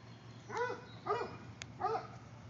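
A coonhound chasing a squirrel in a backyard gives three whimpering, yelping barks at an even pace, fairly faint and distant against a low background hum.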